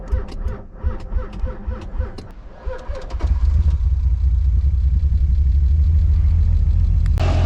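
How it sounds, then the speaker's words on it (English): A 2013 Dodge Dart cold-starting on E85 fuel: several seconds of rhythmic starter cranking, then the engine catches into a loud, steady close-up idle rumble. "Nice E85 cold start."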